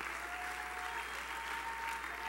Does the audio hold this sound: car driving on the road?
no